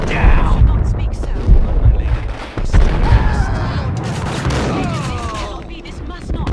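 Rapid bursts of gunfire and booming shots from the Max Payne video game, loud and dense, with shouted voices cutting in between the volleys.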